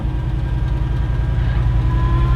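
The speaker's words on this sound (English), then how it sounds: "let me throw it in reverse real quick" A 1959 Dodge Power Giant Power Wagon truck shifted into reverse, giving a steady, loud, low engine rumble close by with an even idle-like pulse and no talk.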